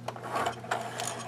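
A sewing machine runs steadily as it stitches a second line parallel to the first on a fabric sample, a close, even mechanical whir with a low motor hum that lasts the whole short stretch without talk.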